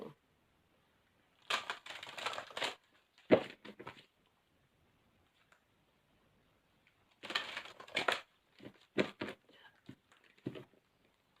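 Tarot cards are shuffled in several bursts of riffling and shuffling, separated by stretches of near silence, close and moderately loud.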